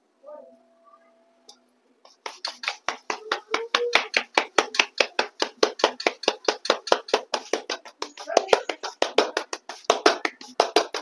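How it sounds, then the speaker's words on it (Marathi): Jowar flour dough being kneaded by hand for bhakri, a quick steady run of soft slapping, pressing thuds close up that begins after a near-silent start and continues to the end, with no talking. "पहिली गोष्ट आपण पीठ चांगलं मळून घेतोय भाकरीसाठी"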